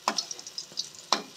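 Masoor dal fritters frying in a pan as they are flipped one by one: a few short scraping clinks against a soft sizzle, close up.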